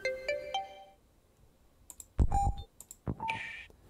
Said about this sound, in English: Some of these are pretty cool. Notification.